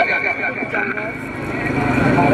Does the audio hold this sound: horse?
yes